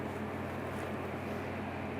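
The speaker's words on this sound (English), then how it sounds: "heard a piece of machinery fire up. Sure enough, got the Case IH tractor down here" A Case IH farm tractor engine drones steadily without change, a continuous mechanical rumble at moderate distance.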